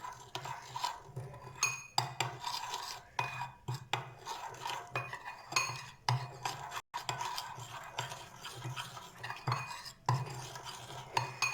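Icing sugar, cocoa powder and milk are stirred together in a bowl, a spoon scraping and clinking in quick, uneven strokes, quiet and close with no voices.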